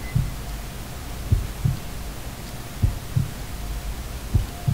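Heartbeat sound effect in the Roblox horror game Before the Dawn: muffled low double thumps repeating at a steady pace over a constant droning hum, loud and close with no talking.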